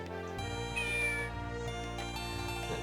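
A cat meows in the video game Phantasy Star Zero, a clear, drawn-out call over looping game music with steady background tones.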